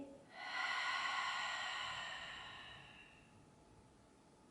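A single long breath pushed out through the mouth during a yoga-style breathing exercise, a soft airy rush that swells quickly, then tapers away over several seconds, close and alone.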